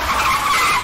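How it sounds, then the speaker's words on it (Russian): Car brakes squeal in a brief, loud, sustained skid lasting under a second, a harsh tire screech on its own. "Слышен скрип тормозов"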